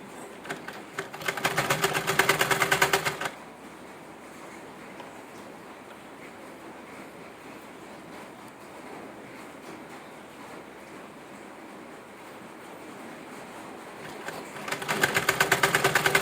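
A sewing machine stitches fabric for a scrunchie in two short motorized bursts, one early and one at the end, with a quiet stretch between and no talking.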